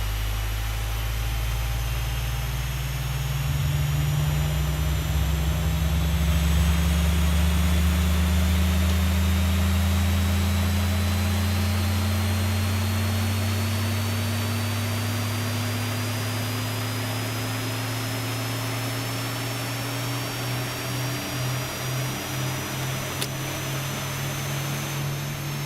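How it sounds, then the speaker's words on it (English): The number 2 jet engine of a Boeing 737-600 in the X-Plane 12 flight simulator spools up from start, a loud, steady whine and roar that climbs gradually in pitch over about twenty-five seconds, with no speech. "Let's go ahead and start engine number 2."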